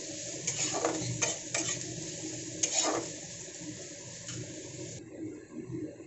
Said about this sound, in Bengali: সবজিটাকে খুব পুড়িয়ে ভাজার আমার দরকার নেই, হালকা একটু ভাজা হবে